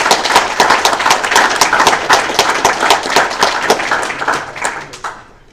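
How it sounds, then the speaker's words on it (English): Close, brisk applause from a small audience at a high school basketball letter-of-intent signing ceremony, a crisp rapid patter of clapping hands that holds steady for several seconds, then tapers off near the end. "Let's give him a round of applause"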